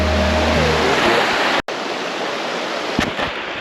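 River flowing at a backpacking crossing in Sambar country: steady broadband rushing of water throughout, with a brief dropout mid-way and a couple of soft knocks near the end; a low hum fades early.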